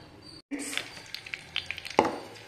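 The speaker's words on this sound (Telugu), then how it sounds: "బాయిల్ అయింది కదండి, ఆయిల్ బాయిల్ అయింది." Oil sizzles in a clay pot over heat, a soft steady crackle with scattered sharp pops and a louder burst near the end, close by and without speech.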